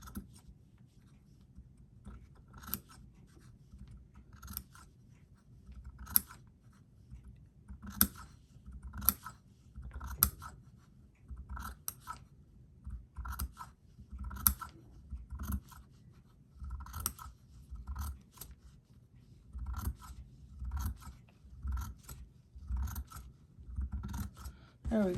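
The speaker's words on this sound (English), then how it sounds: "we're going to make some fringe on the bottom of it just by just a simple little cut across the bottom" Scissors snip fringe into fabric at the bottom of a handmade DIY gnome, giving a steady run of short, crisp cuts spread evenly across the clip over a low background hum.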